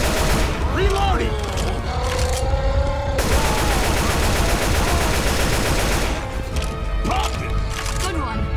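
Heavy, continuous gunfire in the video game Left 4 Dead 2, loud close volleys mixed with sharp cracks and game effects, while players call out over the shooting.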